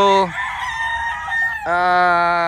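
Chickens and a rooster at a poultry farm, with loud, harmonic crowing that breaks off briefly and then resumes strongly, set against a background of fowl clucking close by.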